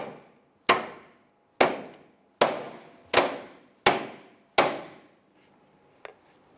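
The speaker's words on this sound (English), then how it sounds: "So what we're going to do, use two hammers. And we're going to hit the pitman arm on either side at the same time." Six sharp metal clanks as two hammers strike both sides of the pitman arm at once on a 1999-2004 Jeep Grand Cherokee, evenly spaced with short ringing decays, then a fainter tap at the end.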